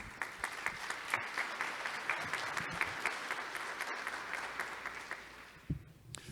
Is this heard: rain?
no